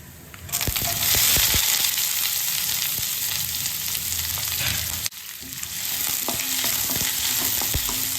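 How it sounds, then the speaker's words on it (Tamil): Chopped onions with dried red chillies sautéing in a pan for a ragi semiya dish, a steady loud sizzle with occasional stirring scrapes and a brief break midway. "வெங்காயம் நல்லா வதங்கி வரட்டும்"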